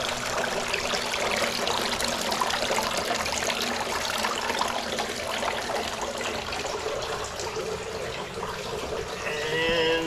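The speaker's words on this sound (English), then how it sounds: "Have a waterfall." Small garden waterfall on a golf course home property, a steady broadband trickle and splash of running water holding even throughout, close and moderately loud with no talk.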